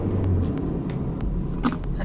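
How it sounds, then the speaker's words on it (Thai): An Isuzu MU-X 3.0 4WD accelerates on kickdown. A low engine rumble and drone is heard from inside the cabin, steady and fairly loud for about two seconds. "เวลาที่เรากดคันเร่งคิกดาวน์นะครับทันใจขึ้นมาทันทีครับ"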